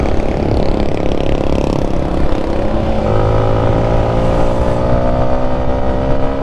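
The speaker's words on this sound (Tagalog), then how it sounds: "For sure, naririnig nyo yung tunog ng ating sniper sa ngayon." A Sniper 155 motorcycle engine hums steadily while riding on a highway, a continuous loud drone with a rising tone as the bike gains speed, mixed with wind and road rush and no talking.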